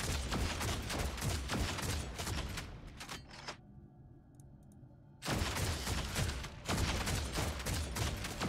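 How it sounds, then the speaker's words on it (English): Rapid bursts of missile launcher fire and explosions in the video game Warhammer 40k: Deathwatch crackle loudly, break off into a quieter gap of about two seconds, then resume just as densely. "Missile launchers are fun in this game"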